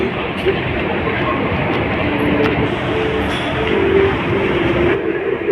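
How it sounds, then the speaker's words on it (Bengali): Loud, continuous rumble of a Kolkata metro train running through the underwater tunnel beneath the Ganga between Esplanade and Howrah Maidan, with a steady roar and faint squeals, voices murmuring underneath. "ভারতের প্রথম গঙ্গার তোলা দিয়ে মেট্রো ছুটল"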